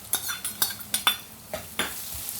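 Green garlic, ginger and garlic frying in a pan for Sindhi seyal fish curry, with a run of sharp spoon-against-pan scrapes and clinks over a soft, steady sizzle, close and moderately loud.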